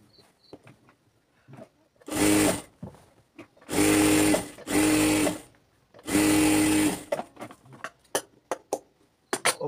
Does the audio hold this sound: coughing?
no